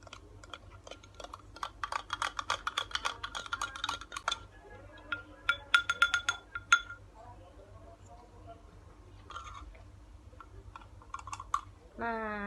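Salt is stirred into a glass of water holding an egg, producing a quick series of bright clinks of a spoon against glass in bursts. Quiet pauses fall between the bursts.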